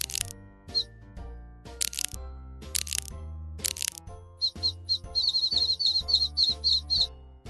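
Young bird chirping in a run of quick, high, closely spaced peeps, mostly in the second half, over a backdrop of children's-style music with occasional sharp cracking sounds.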